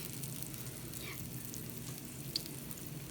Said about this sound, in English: I'm going to put them on and just let them fry.